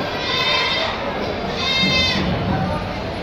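A goat bleats at a large goat market in Balaheri, Rajasthan, giving a few wavering bleats through steady crowd chatter and nearby talk.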